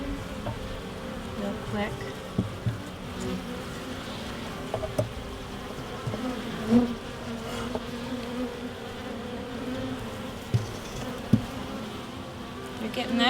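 Honey bees buzzing steadily inside an opened hive with comb being built out, a continuous close hum under brief quiet talk and occasional knocks of handling.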